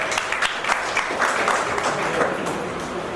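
An audience claps in a hall, a dense and even burst of applause that holds at a steady loudness for about three seconds.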